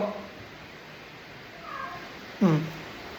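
A small cat meows indoors, giving one loud, clear meow near the end after a couple of faint, softer mews earlier, with quiet room background.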